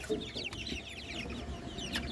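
Tiger chickens cluck softly nearby in scattered short calls over a low background murmur.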